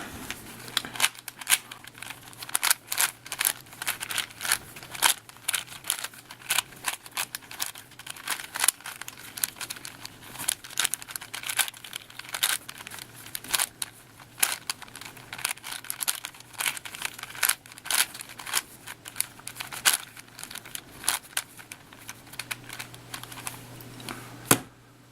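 Rapid clicking and clacking of a 5x5x4 twisty puzzle cube being scrambled by hand, a dense stream of sharp plastic snaps continuing steadily for about 25 seconds with no talk.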